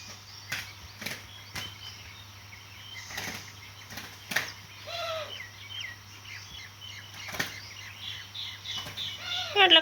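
Two birds fight, with bursts of flapping wings breaking out again and again alongside scattered chirps and clucks, over a steady low hum.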